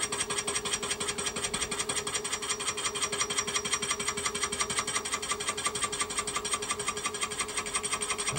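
A milling machine takes a light cut on tooling plate with a honed cutting tip and oil, giving a steady, even rasping chatter with a constant mechanical hum, continuous and close throughout.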